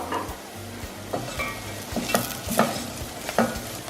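Cinnamon stick, cardamom, black pepper, cloves and chilies fry in oil with browning onions for chicken pilau, a close sizzle broken by repeated spoon-scraping stirs at an even pace.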